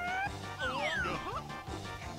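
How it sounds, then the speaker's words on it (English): A dog yips and whines in the background of a home setting, several short pitched barks and whimpers sliding up and down, fairly faint behind a low speaking voice. "Probably hear my dog barking in the back there."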